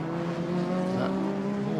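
A pre-1966 Grand Prix race car goes by on a circuit during a classic car race, its engine a steady, loud, tonal drone that stays close for the whole short moment with no talk over it.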